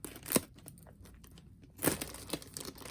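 Scissors snipping open a plastic bag of jewelry, heard as two distinct crinkly cuts about a second and a half apart, close and fairly quiet with rustling plastic between them.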